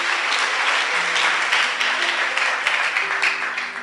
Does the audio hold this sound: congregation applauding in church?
yes